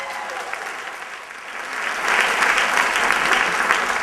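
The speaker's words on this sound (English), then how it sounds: "Give yourself a round of applause" An audience claps after a motivational talk, with applause that starts moderate and then swells louder and denser about halfway through before holding steady.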